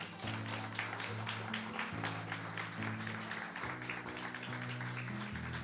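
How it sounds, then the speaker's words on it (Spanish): Applause in a church, a steady wash of clapping at moderate distance over sustained organ or keyboard chords, with no clear speech. "denle un fuerte aplauso al Señor"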